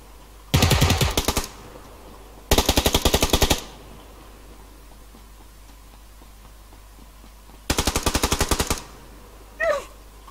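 Three loud bursts of rapid automatic gunfire in PUBG Lite, each about a second long, separated by quieter gaps, with a brief fainter sound at the end.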